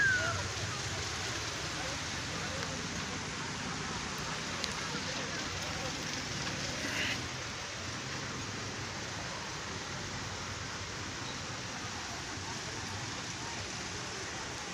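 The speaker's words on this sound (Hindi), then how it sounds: "6 दिन से मुसलसल इसी रफ्तार में बारिश हो रही है।" Steady, dense rain in Quetta hisses continuously throughout, a broad wash of noise with a brief louder patch partway through.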